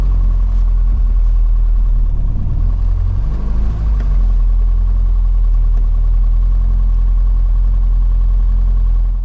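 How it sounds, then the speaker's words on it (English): Classic Mini engine running on a break-in drive, heard from inside the car as a loud, steady low drone with a faint rise and fall in revs, no voices over it. "I'd listen to the sound of the engine"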